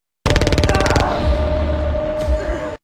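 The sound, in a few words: gunshot in a film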